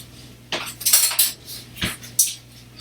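A spoon mixing cherry oat bar ingredients in a bowl, a handful of loud, close metallic scrapes and clinks in an uneven rhythm with quiet gaps between, no talking.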